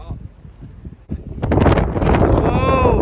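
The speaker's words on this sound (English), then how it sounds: "Oh, windy." Wind roars and buffets the microphone on a downhill mountain bike track at Fort William, Scotland, building from a low rumble to a loud, steady rush.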